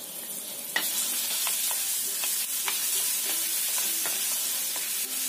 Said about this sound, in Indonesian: Tumis bareng sama bawang putih.